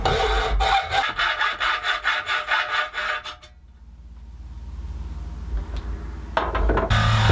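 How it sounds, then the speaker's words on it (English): Hacksaw cutting aluminum: a run of quick, even back-and-forth rasping strokes close to the microphone, then stopping partway through, followed by quieter handling noise. "I'm using a hacksaw here"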